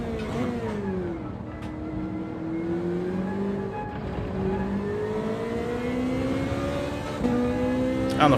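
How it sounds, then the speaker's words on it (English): A Ferrari in Gran Turismo 7 accelerates hard during an online daily race, its engine note climbing through gears in sweeping rising pitches, loud and close, with a few shifts and a final surge. "the Ferrari really does floor it out of there"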